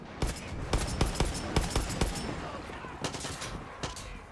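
Gunshots hitting an enemy in the Far Cry 6 shooter, a rapid series of sharp, loud cracks in quick bursts, closely spaced shots, then a brief pause before a few more, with faint talk in the background.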